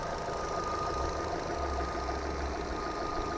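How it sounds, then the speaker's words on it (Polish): A washed Opel Astra H engine with a replaced timing belt idles evenly. A steady low hum with a faint mechanical rattle is heard close up, with no talk. "Silnik widać myty, ale pracuje równiutko."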